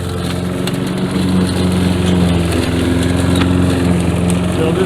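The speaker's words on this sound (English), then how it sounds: "So this is my secondary mower anyway" A secondary walk-behind lawn mower with a broken self-propelled cable runs nearby with a steady droning engine hum and a slight rise in pitch, unbroken by speech.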